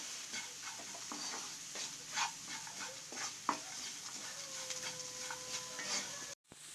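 Broken cashews are sautéed and stirred in a pan for a red aval vegetable upma, with a faint, low sizzle and scattered light spoon clicks and scrapes.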